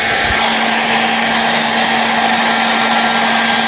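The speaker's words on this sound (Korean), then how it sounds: "하나는 드라이기를 켜볼 거고요" An electric hair dryer blows continuously with a loud, steady rushing whoosh and a faint tonal hum, running alone with no talking.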